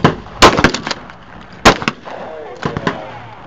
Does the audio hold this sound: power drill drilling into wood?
no